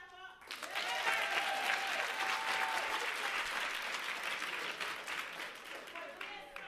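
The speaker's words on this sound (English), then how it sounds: "make sure you give them a clap up" An audience at a women's collective leadership celebration bursts into sustained applause, a dense wash of clapping that starts abruptly, holds steady for several seconds, then tapers off.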